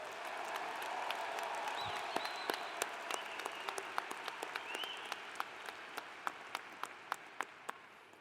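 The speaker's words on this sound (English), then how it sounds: "Everybody, a round of applause for all of these graduates." A graduating class draws sustained applause from the audience at a spring commencement ceremony, a dense steady wash of clapping from a large crowd, with occasional sharper individual claps standing out near the end.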